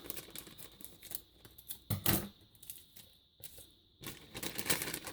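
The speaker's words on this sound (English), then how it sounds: "pinch that open and cut this thick bit off as well" Scissors cut a thick paper section from a junk journal cover, giving close crunchy snips and rustling paper in short irregular bursts.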